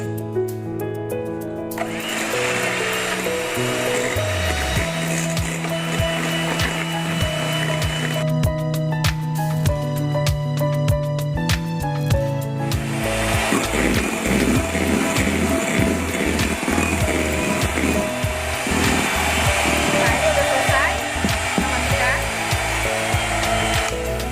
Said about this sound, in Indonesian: Jadi putih telurnya kita kocok dulu sampai dia benar-benar berbusa dan soft peak ya.